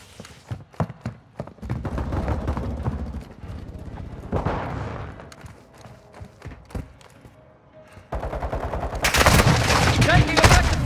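Gunfire in a Call of Duty Modern Warfare II team deathmatch, sharp irregular shots and rapid bursts of varying loudness, heaviest toward the end, with a brief shout mixed in.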